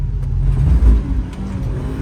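Car drifting around a track, a low engine roar that surges and rumbles with throttle changes over a couple of seconds, close and fairly loud.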